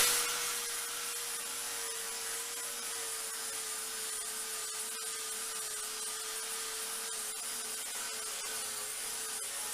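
Steady, continuous abrasive whine of power sanding on an intercooler's honeycomb core during a PRO 400 R sport gen 2 fitting, a constant hiss with a faint tonal hum, moderately quiet and uninterrupted.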